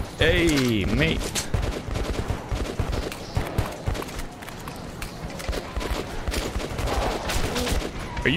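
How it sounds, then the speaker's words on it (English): Gunfire and rapid bursts from weapons in the video game Metro 2033, busy and loud, with clattering shots and running over a mix of game sounds throughout. "Are you helping me or shooting at me?"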